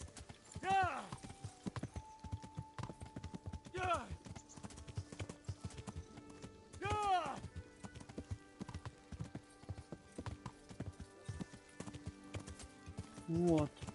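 Horses in the medieval video game Kingdom Come: Deliverance walk with steady clip-clopping hooves, and several whinnies rise above ambient game sounds. Faint voices talk intermittently underneath.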